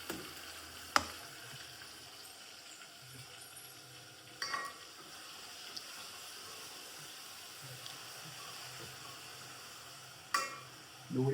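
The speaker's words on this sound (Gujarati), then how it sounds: "ડુંગળી થોડી શેકાવા દઈશું આપણે." Finely minced onion sizzles steadily in hot oil, a continuous low crackle and hiss close by, broken by a few sharp clinks of a spoon stirring the pan.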